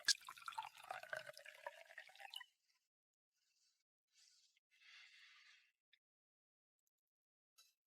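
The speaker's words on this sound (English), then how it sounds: "Pour Mr. Cross a drink." A drink poured in a mansion setting: a bright splashing pour runs for about two and a half seconds, then soft separate liquid and clink sounds follow through a mostly quiet stretch.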